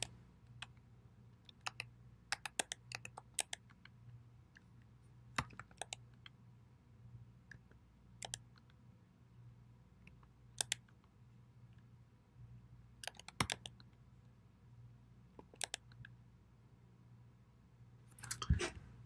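Sparse, faint clicks of typing on a computer keyboard while sizes are entered into an online order form, scattered single taps and short clusters over a quiet low hum, with a louder cluster at the end.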